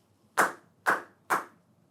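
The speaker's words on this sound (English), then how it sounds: "Try clapping your hands 3 times after 3." Three sharp hand claps land evenly about half a second apart, close and crisp, each followed by a short decay in an otherwise quiet room.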